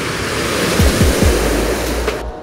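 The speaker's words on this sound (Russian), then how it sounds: "За рифом океан бушует." Surf pounding on the ocean beyond a reef, a steady broadband roar of breaking waves heard from the water's edge, continuous and fairly loud with a few low thumps as swells break.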